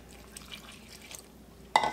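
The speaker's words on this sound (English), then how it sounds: "Then you add all of your water," Water poured into a Zojirushi bread machine pan of ground whole wheat flour to start a sponge: a short, close splash and trickle arrives near the end, following a quiet stretch of faint room noise.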